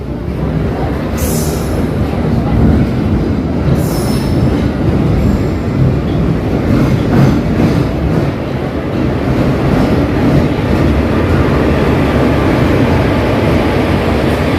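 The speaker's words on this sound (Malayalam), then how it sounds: "ഒരു വാപ്പ് 4 ആണ് കേട്ടോ ലോക്കോമോട്ടീവ് വരുന്നത്." A passenger train pulls in behind a WAP-4 electric locomotive from the Arakkonam shed: a loud, steady rolling rumble of wheels and carriages with a few high brake squeals near the start, heard close by.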